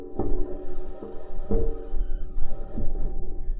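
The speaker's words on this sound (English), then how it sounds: "This is the sound of the rover driving on Mars." Metal wheels of a NASA Mars rover rolling over rocks on the Martian surface, heard as a steady low rumbling hum with periodic dull knocks about every half second to second, recorded alone with no voices.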